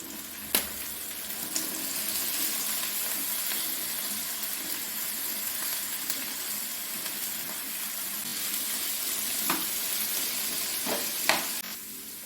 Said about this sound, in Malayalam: ഈ വെണ്ടയ്ക്ക ചെറുതായിട്ടൊന്ന് വറുത്ത് കിട്ടണം